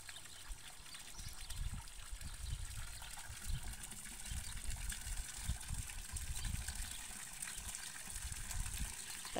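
Water gushes and splashes outdoors as children play in it, a steady, close, uneven rushing with low surging pulses that continues throughout.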